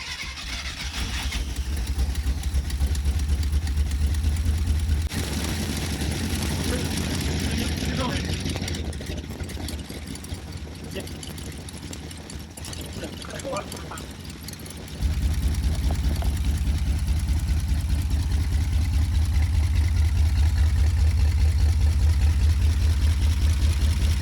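A 1972 International Cargostar truck engine idles steadily up close, a deep continuous rumble with a brief dip before settling louder, while people talk over it.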